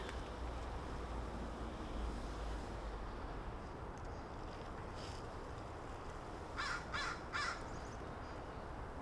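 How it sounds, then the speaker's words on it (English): Crows give three quick caws in a row, somewhat distant and faint, over a low steady outdoor rumble. "And then there are the crows."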